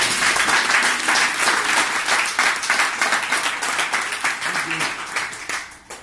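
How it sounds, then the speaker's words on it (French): A church congregation applauds the Lord at the close of a French-language service, steady loud clapping with a few cheers running throughout, thinning slightly toward the end. "Acclamez le Seigneur, c'est fini."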